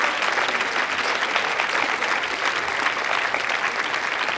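An audience at a science slam applauds, a dense, steady wash of clapping from a full hall that stays loud and even throughout.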